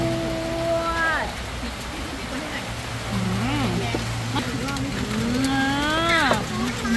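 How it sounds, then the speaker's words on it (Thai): Rain falls outdoors during a beef barbecue, a steady hiss of drops running throughout while people talk and call out over it. "ฝนตกครับทุกคน"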